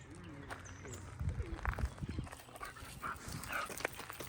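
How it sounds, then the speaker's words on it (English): Dogs bark and whimper in a neighborhood with many dogs, a few scattered short barks at moderate distance mixed with light movement and faint bird sounds. "They are plenty of dogs in the neighborhood, and the dogs get riled up"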